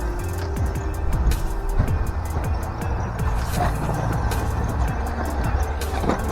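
A Tamiya Frog 2.0 DT-03 electric RC car on a 2S LiPo runs on a track, its motor whining in changing bursts with clattery ticks as it speeds around nearby.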